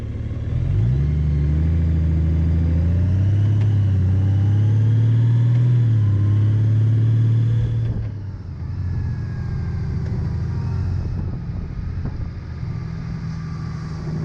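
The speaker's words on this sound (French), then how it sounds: "Je vais vous laisser constater le changement de vitesse. Ça se fait automatique." A 2018 Honda Goldwing Tour DCT motorcycle engine hums and climbs in pitch as the bike rides, then drops sharply as the automatic gearbox shifts, with the engine note steadying again at lower revs.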